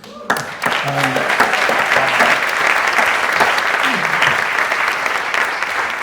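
Sustained applause from a theatre audience after a stage show, a dense wash of clapping that starts abruptly and holds steady throughout, with a few faint voices mixed in.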